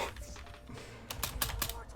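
Rapid keyboard typing as a player spams the space bar during a Wizard101 speedrun, clattering in quick close-up bursts that grow louder in the second half, with a voice talking faintly underneath.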